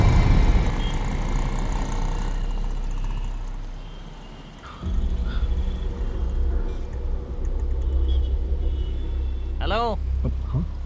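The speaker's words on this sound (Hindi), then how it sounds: "गाड़ी निकाल।" A car is driven off in a Hindi-dubbed South Indian action film: a steady low engine rumble that dips briefly, then surges back stronger midway, with a short rising tonal swoop near the end.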